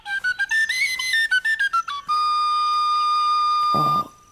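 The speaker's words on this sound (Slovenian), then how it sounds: "Z Bazilkom igrate na piščalko." A pipe whistle plays a short run of bright notes that step up and down, then holds one long steady tone before a brief breathy break, close and clear.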